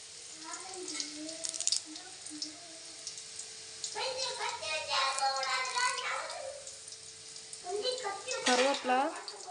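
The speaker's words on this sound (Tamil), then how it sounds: "சாம்பார் தாளிக்கிறதுக்கு எண்ணெய் ஊற்றி கடுகு போட்டேன்" Mustard seeds sizzling and crackling in hot oil for tempering sambar, close and steady, with a person talking over it partway through.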